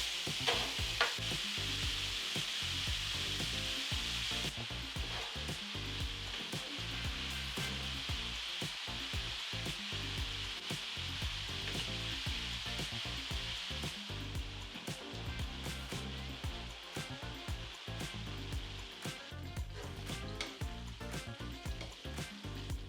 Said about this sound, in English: They've been frying for about 20 minutes.